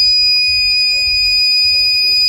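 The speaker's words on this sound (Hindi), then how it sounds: "ये सप्लाई लगा दी, सप्लाई ऑन करती बीप मारने लग के" A Microtek 24 volt inverter gives a steady, piercing high-pitched electronic tone on power-up, sounding continuously and loud with a faint low hum beneath.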